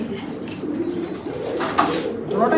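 Low, rolling cooing of racing pigeons close by, continuous through the clip with some rustling and faint background noise.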